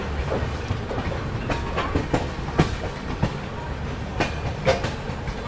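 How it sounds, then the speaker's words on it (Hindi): The Chennai Duronto Express rolls slowly into Agra Cantt station, wheels clicking and thumping over rail joints in an irregular rhythm beneath a steady low rumble, heard from aboard the train. "बहुत धीमे धीमे स्पीड में अभी अपनी ट्रेन एंटर हो रही है आगरा कैंट पे।"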